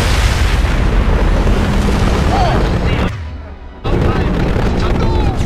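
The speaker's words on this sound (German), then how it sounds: "Diese Explosion ist echt immer süß." A loud, sustained explosion rumble from the game Mass Effect 2, broad and roaring, dropping away briefly near the end before the roar returns.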